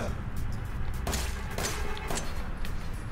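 Several sharp gunshots from the video game Resident Evil 7 crack out in quick succession over a dense, rumbling game soundscape.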